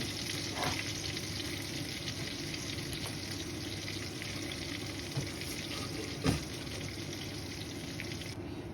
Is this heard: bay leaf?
yes